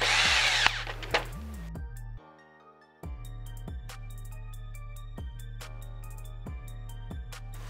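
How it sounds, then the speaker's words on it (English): Small power driver running screws into the bed of a Traxxas Ultimate Hauler 1:10 RC truck: a steady whirring drive at first, then a series of short, evenly spaced bursts with brief pauses between, close and moderately loud, no talking. "we're going to tighten, go ahead and put all of our small screws in the bed"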